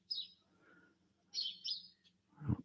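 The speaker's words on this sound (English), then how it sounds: "I had a longer serenade of the birds this morning." Morning birdsong with two bright, high chirping phrases separated by a pause, fairly close and clear over a faint low hum, followed by a short rustle at the end.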